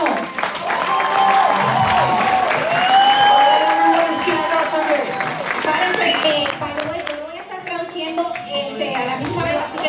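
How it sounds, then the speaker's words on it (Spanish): A crowd applauds with sustained clapping, mixed with cheering and raised voices, the clapping thinning out toward the end. "vamos a darle un fuerte aplauso"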